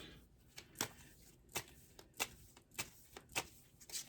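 A deck of oracle cards is shuffled by hand, giving a run of soft, quick riffling snaps and flicks that repeat at an uneven rhythm, close and fairly quiet with no talk.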